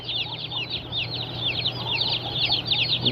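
A brood of young chicks, part of a batch of sixty, peeps continuously in dense, overlapping high chirps over a steady low background hum, close and fairly loud.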